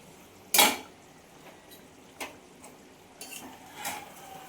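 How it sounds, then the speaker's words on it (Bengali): A lid lifted off a cooking pot of potol malaikari (pointed gourd curry), giving one sharp metallic clank followed by a few lighter clinks and taps against the quiet kitchen background. "এবার ঢাকনাটা খুলে দেখি পটলের মালাইকারিটা আমার কত দূর।"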